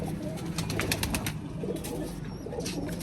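Saharanpuri pigeons coo steadily and close by, with a few soft wing flaps and faint bird calls over a continuous low background.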